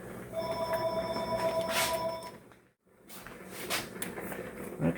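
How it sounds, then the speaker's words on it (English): Telephone in a home kitchen ringing with a bright, steady electronic trill, then a brief silence before a second ring starts, moderately faint with no talk over it. "There's the phone."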